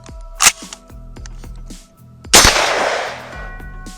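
Two sharp, loud blasts from a Mossberg 500 shotgun fired at 20 yards outdoors, the second followed by a long rolling echo, with faint clicks and handling between shots.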